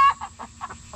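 Chickens cluck in short, close bursts, several soft clucks in quick succession with a faint hum behind.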